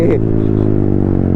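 Deep, steady rumble from a Yamaha MT-15 motorcycle with a loud aftermarket exhaust silencer, loud and close, with a brief voice at the very start.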